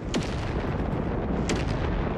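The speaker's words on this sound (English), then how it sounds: "How does that even sound like artillery?" Artillery fire in the World War II strategy game Company of Heroes 3: two sharp, distant-sounding blasts about a second apart, each quickly fading over a constant dense rumble of battle noise.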